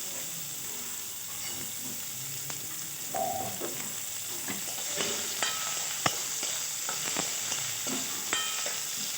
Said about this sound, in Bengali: সব শেষে করলাগুলো ভাজবো ভেজে নেব